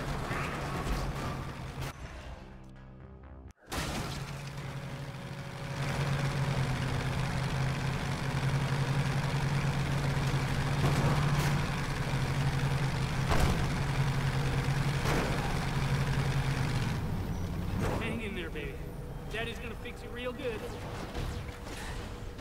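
A truck engine idling in the video game Dead Rising 3, a steady low rumble holding for most of the span with a brief cut early on, under game dialogue and other scene sounds.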